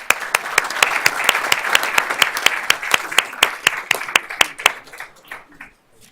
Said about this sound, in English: Let's give all these gentlemen a round of applause.